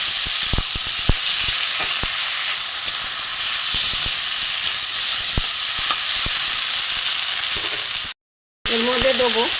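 Ginger-garlic paste frying in a pan for a pointed gourd and prawn curry gives a steady close sizzle and hiss with scattered sharp pops and crackles, then a brief silence before the frying continues.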